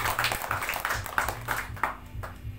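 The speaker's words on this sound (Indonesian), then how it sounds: "Beri tepuk tangan terbaik buat Tuhan Yesus Kristus." Church congregation clapping during a worship service, a steady, somewhat rhythmic hand-clapping with repeated accented beats over low musical accompaniment, moderately loud and fading slightly toward the end.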